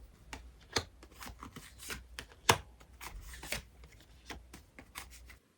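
Tarot cards being shuffled before a reading, a steady run of soft papery riffles and flicks with one sharper snap midway, close and fairly quiet, with no talking.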